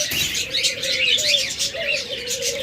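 A pair of budgerigars chirps close by in a busy stream of quick, high, warbling twitters and chatter, with no voices heard.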